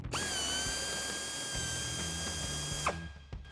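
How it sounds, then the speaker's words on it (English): An air ratchet spinning out bumper trim bolts on a Jeep Wrangler JL, a loud sustained whirring run for nearly three seconds, then a sharp stop and faint clicks. "I'm just using an air ratchet just to speed up the process"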